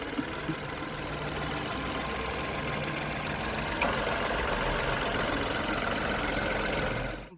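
A Tata Punch BS6 Phase 2 engine idles with a steady, even hum heard from close by, unbroken for several seconds with no talking.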